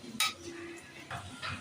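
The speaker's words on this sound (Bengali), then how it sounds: "নাড়া দিয়ে ঢাকনা দিয়ে আবার ঢেকে দিচ্ছি।" Pulao stirred in a pot, then covered: a sharp metallic clink of a spoon or lid, followed by a couple of softer scrapes and knocks at close range.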